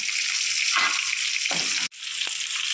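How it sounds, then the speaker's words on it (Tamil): Chopped onions with a pinch of salt sizzling loudly in a hot pan for a fish gravy, a bright steady hiss broken by a few stirring scrapes and one brief cut near the end. "வெங்காயம் போட்டுக்கிறோம் வெங்காயம் வதக்குறதுக்கு கொஞ்சம் உப்பு போட்டுக்கிடுவோம்"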